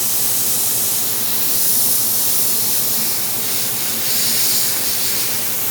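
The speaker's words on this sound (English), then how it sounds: "you're gonna spray up just the eyelid right there" Steady airbrush-like spray hiss painting the eyelid of a Missouri buck taxidermy mount, continuous and fairly loud, swelling slightly in places, with no voices.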